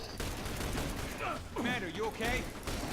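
Rapid gunfire in The Bureau: XCOM Declassified, clustered bursts mixed with whooshing energy weapon effects and game sounds, moderately loud with a voice speaking briefly among the shots.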